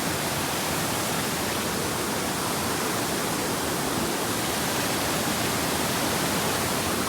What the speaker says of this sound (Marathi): ही नदी आहे लहानशी